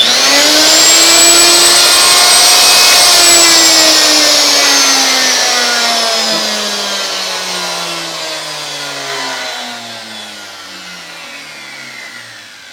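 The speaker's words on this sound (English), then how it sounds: "Let me power it on and then show to you how this thing works." A Hitachi M12SA2 router switches on with a sudden jerk and a high whining motor that sweeps quickly up to a loud steady speed and then slowly winds down, its tone dropping as it coasts to a stop.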